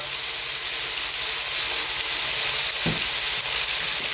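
Beef browning in a pan with black pepper, a loud close hiss of frying with a brief stirring scrape near the middle, no talk.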